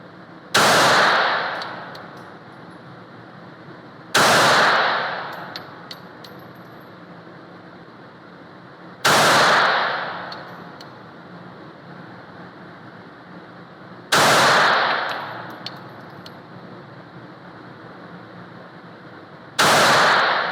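Five sharp, loud gunshots from a Smith & Wesson Bodyguard 380 pocket pistol fired at a shooting range, spaced a few seconds apart, each with a short decaying echo.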